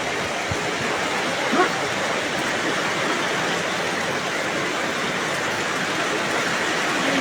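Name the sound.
heavy rain during typhoon Kristine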